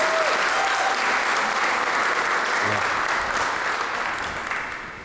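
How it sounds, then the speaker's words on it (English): Wedding guests applaud together, a loud, dense and steady wash of clapping that holds for several seconds before slowly fading at the end. "So I think we should give them a round of applause."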